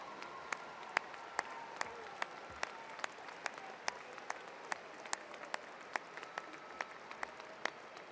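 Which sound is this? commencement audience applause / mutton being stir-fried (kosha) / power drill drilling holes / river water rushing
commencement audience applause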